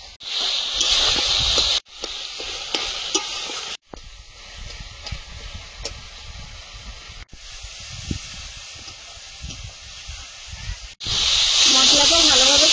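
Spice paste frying in a little oil with a splash of water, giving loud sizzling hisses at the start and end and a softer steady crackle in between.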